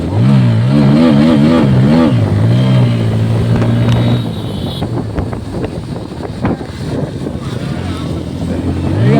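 A motorbike engine revs hard with a wavering, rising and falling pitch for several seconds, then settles into a lower, rougher rumble mixed with wind buffeting on the microphone.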